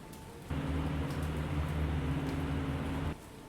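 Rain in the naval war game War on the Pacific starts abruptly as a dense hiss, holds steady for about two and a half seconds and then cuts off, with a low rumble beneath it.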